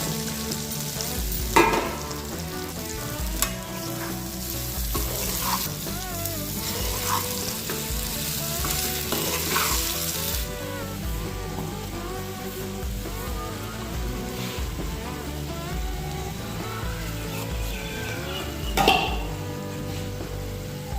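Ground masala is stirred into gooseberry pickle frying in oil, a steady close sizzle running throughout with occasional clinks and scrapes of a spoon against the pan.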